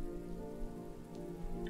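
Steady rain pattering on a surface in the video game Road 96, a constant soft hiss with scattered drops, fairly quiet and even throughout.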